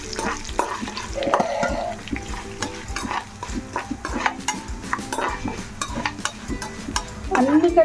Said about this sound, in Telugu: ధనియాలు, జీలకర్ర వేసి కొంచెం దోరగా వేసుకోవాలి.